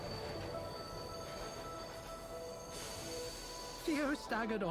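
A train sits at a station with a steady rumbling hum, then its wheels squeal in wavering high tones near the end, with voices talking faintly over it.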